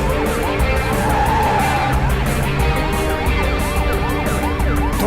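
A fast car in a chase scene from a Hindi action film, with a loud continuous engine and tyre roar, skidding squeals and sirens wailing throughout.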